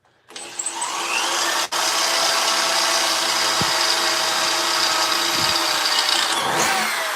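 A power drill whirs steadily and fairly close while armour is being assembled, with a brief stop early on before the motor resumes a constant high whine, plus a few small knocks and clicks.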